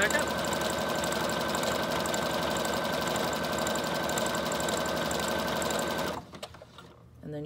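A sewing machine stitching a zigzag seam while making a junk journal from a box, running as a loud, steady mechanical whir for about six seconds before stopping abruptly.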